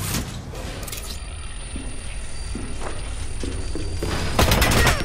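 Rapid video game gunfire rattles in bursts during an online shooter match, loud and close, with a dense fusillade building toward the end over constant background game noise.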